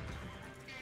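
Horse neighing and hooves in Red Dead Online, a brief close whinny over busy low hoofbeat-like rumble, loud throughout a very short moment.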